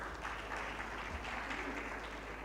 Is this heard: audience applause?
yes